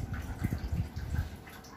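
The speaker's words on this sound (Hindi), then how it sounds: "और ये कल कल पानी की आवाज़ तो बहुत ही प्यारी लगती है।" Gentle trickling and dripping of water from an indoor decorative water feature in a living room, soft and steady with small irregular splashes, no voices.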